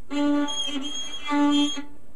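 Scratchy, unsteady fiddle notes on one pitch, bowed in a few strokes with the bow not at 90 degrees to the string, giving a rough, wavering tone.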